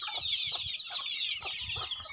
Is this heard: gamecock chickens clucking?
yes